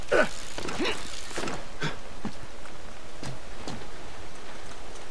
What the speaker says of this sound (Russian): Но сейчас дождь.